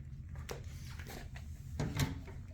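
A drawer in a hotel room at a resort in Ooty slides open with a few soft wooden scrapes and a light knock near the end, close by and moderately quiet, with no talking.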